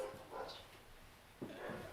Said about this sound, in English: you want to go stop the dogs barking?